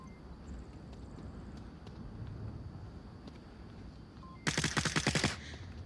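A short rapid burst of automatic gunfire in a VR shooter game, about a dozen sharp shots in quick succession over a steady low background rumble.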